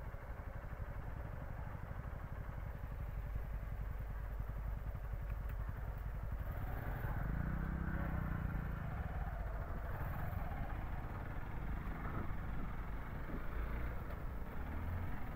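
A motorbike engine drones steadily as it climbs a hilly mountain road in Tripura, a low continuous hum with faint clatter and no speech.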